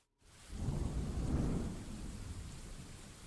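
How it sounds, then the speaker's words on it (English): In Dwarf Fortress, a rumble of thunder rolls in over steady rain, peaking and then fading into the continuing downpour. "Because he's caught in the rain again."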